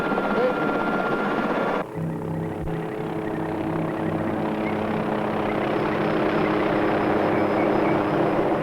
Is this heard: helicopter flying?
yes